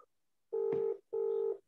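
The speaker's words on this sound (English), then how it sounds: "Someone's phone is ringing." A phone ringing during an online session, heard as two short, identical electronic tone bursts separated by a brief gap, fairly faint and with no talking over them.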